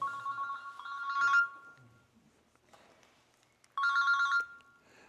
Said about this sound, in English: Is that my phone? I'm sorry, forgot to turn it off.